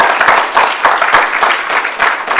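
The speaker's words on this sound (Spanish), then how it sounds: "Dele un aplauso fuerte al Señor" A church congregation applauding loudly, a close dense burst of clapping with a pulsing rhythm throughout, no voices over it.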